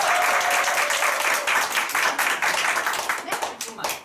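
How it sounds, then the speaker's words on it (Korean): A seminar audience gives loud, dense applause to two business owners who shared marketing tips, strong and continuous at first, then breaking into uneven, fading claps toward the end. "진짜 좋은 팁을 주신 우리 오세훈 사장님 그리고 이은석 사장님께 다시 한번 큰 박수"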